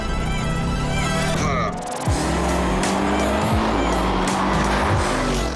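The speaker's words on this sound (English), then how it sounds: "This is the 707 horsepower or 522 kilowatt V8 supercharged engine." A supercharged 707-horsepower V8 in a Jeep Trackhawk revs loudly up close, its engine note rising and falling with a brief dip before building again.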